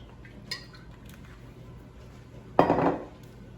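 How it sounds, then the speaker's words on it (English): Vegetables tossed with olive oil in a bowl: a faint clink early on, then one loud, close rattling toss lasting about half a second. "going to put them in a bowl. Toss them with some olive oil."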